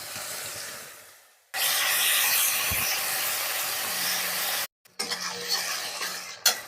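Garlic, onion and ginger pastes hit hot oil with panch phoron, bursting into a loud, continuous hiss that cuts off abruptly, then resumes amid spoon scrapes and clatter.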